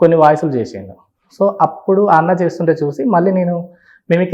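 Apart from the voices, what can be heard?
No distinct noise like a dog, phone or traffic.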